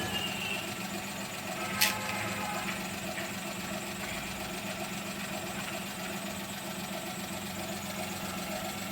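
A Maruti Alto 800 engine idling steadily with a wheel turning on its own during disc brake maintenance, a continuous even hum and rumble with one brief sharp click partway through.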